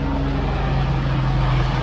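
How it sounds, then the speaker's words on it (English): A helicopter flies overhead, a loud, steady rotor and engine drone that fills the whole short stretch with no other sounds over it. "there's a helicopter."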